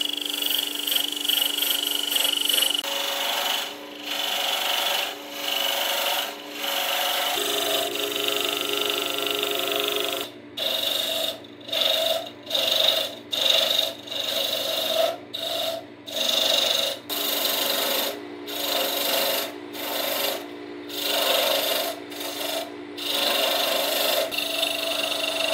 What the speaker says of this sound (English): Nothing fancy on the lathe, I'm just shooting for a basic handle shape that's fat on the end